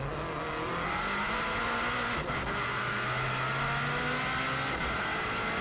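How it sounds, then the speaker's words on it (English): A 2016 Subaru WRX STI brakes hard and downshifts into second gear at Ramsey Parliament Square on the Isle of Man TT course, engine note rising and falling through the gears, loud and steady from inside the car. "real hard braking all the way down into second gear for Ramsey Parliament Square"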